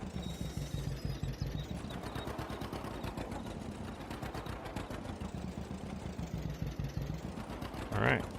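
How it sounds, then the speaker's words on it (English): A John Deere Model A tractor engine idles in a video game mod, a steady rapid low putter with a one- or two-cylinder beat running throughout, loud and continuous with a brief higher burst near the end. "It sounds like it's a one-piston engine."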